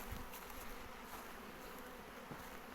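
A honey bee swarm buzzes near a hive outdoors by a tree, a dense, continuous droning hum of many bees heard at a moderate distance with no talking.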